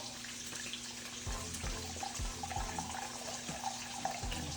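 Beef broth poured into a measuring cup for oxtail gravy, a steady close trickle and splash of liquid with a few soft knocks, no talking.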